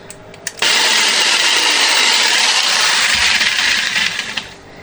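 A used electric jigsaw is switched on and runs with a loud, steady motor whine for about four seconds before winding down, alone and close up.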